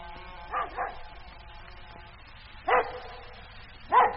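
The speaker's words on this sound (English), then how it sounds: "What's the matter with the dog? He's been going on like that for nearly 20 minutes." A dog barking as a radio drama sound effect, three separate bark bursts spaced apart, the first a quick double bark, heard moderately near over a quiet hiss.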